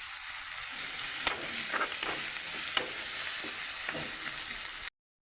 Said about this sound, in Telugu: ఇలా టమాటాలు ఇవి ఫ్రై అయినాయి కదా, ఆనియన్స్, టమాటాలు, పచ్చిమిర్చి